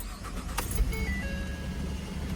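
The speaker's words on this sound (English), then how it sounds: "So now you just start up the truck." A pickup truck engine cranks and catches after a throttle body replacement, then settles into a steady close idle with a brief clatter near the start.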